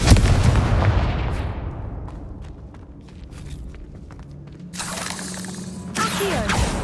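A Confringo fire spell blasts in Hogwarts Legacy, opening with a loud booming explosion that rumbles and fades over a couple of seconds, followed by scattered crackles and two later bursts of magical whooshing energy.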